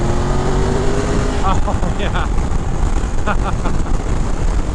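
Triumph Tiger 1200 Explorer Rally motorcycle engine, 2023 model, running steadily at close range as a loud, continuous rumble, with a rider briefly speaking over it.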